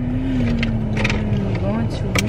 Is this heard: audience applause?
no